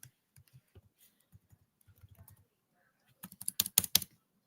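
Someone types on a computer keyboard that has a faulty N key, giving soft scattered key taps that turn into a louder, rapid burst of clicks near the end, close and without talk.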